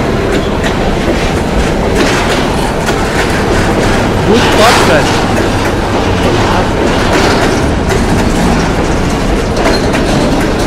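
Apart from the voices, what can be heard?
train passing through a station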